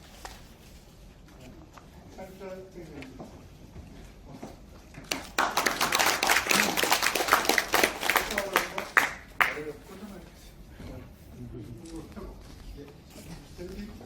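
Audience members at a forest administration society award ceremony clap for several seconds, a burst of crowd clapping rising in the middle between stretches of talk.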